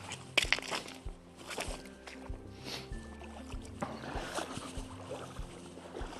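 Footsteps wading across a shallow river as a storm moves in: faint, scattered sloshing splashes and soft water movement close by, with light wind and no speech.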